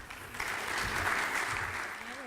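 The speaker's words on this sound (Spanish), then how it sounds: "Un aplauso para ambos." An audience applauds steadily for two panel speakers at a cultural conference in a hall, a dense even clapping with a voice faintly underneath.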